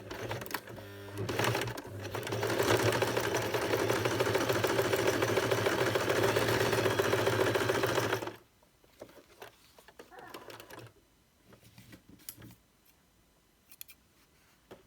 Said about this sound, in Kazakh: Лапкамызды төмен түсіреміз және де тігісімізді бастай берсек болады.